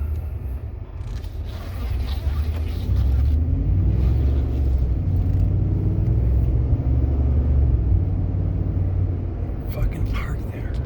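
A truck towing a trailer makes a low rumbling road drone with some scraping and rattling as it moves slowly through a tight turn, loud and close, with a faint voice in places.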